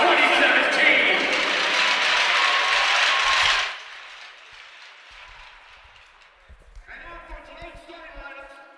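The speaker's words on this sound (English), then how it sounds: "Fans, have a big round of applause for the Manhattanville men's hockey class of" Hockey fans at a Manhattanville College men's game against Stevenson give the graduating seniors a big, steady round of applause for about three and a half seconds, then it drops away and someone talks over a faint arena hum.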